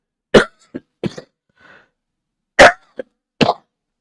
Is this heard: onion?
no